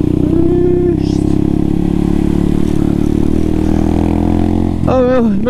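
Honda Grom motorcycle riding through town, its engine droning loud and close with steady clatter, ending in a sharp rev.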